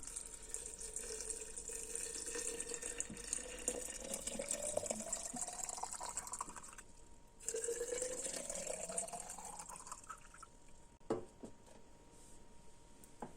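Water poured into jars of wild red hawthorn vinegar, a close, gurgling fill whose pitch rises as each jar fills, with two separate pours and a short gap between them.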